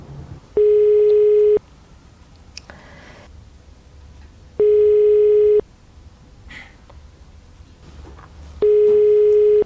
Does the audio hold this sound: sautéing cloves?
no